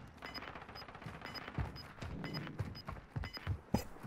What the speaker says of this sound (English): We've got gunshots going off to our left, up to our right.